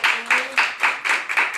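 A church congregation claps together during a worship service, a dense run of rhythmic group claps in even bursts, fairly loud and close, with a faint voice briefly underneath.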